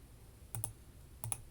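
Two pairs of soft, close mouse clicks, each a quick double tick about two-thirds of a second apart, selecting a cell in an Excel 2016 spreadsheet, with no talking over them.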